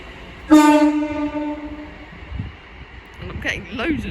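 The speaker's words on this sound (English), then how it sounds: "now departing is the 13:46 London Northwestern Railway service from Crewe to Birmingham New Street" A London Northwestern Railway train departing Stafford station on the West Coast Main Line: a loud horn blast rings out near the start, followed by low rumbling movement and scattered platform noise.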